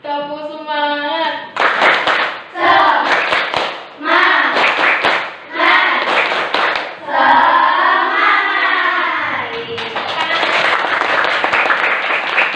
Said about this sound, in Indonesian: kita awali dengan tepuk semangat terlebih dahulu ya